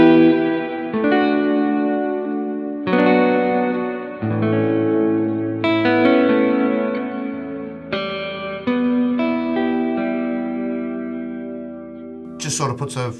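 Guitar notes and chords played through the Eventide H9 Blackhole reverb's resonance setting, with a resonant, ringing tail sustaining between strums. The tone is full and mid-heavy, with no one talking.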